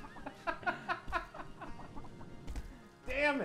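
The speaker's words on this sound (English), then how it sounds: "I'm still loving all these diving headfirst chickens right here." Cartoonish clucking and squawking from chickens in a Chicken Run arcade video game, a run of short, repeated calls over steady game noise, ending in a louder rising squawk.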